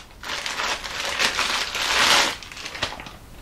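A heavy wood lathe chuck body is handled inside a greasy plastic bag, producing loud, continuous crinkling and crumpling of plastic close by that swells and fades over a few seconds.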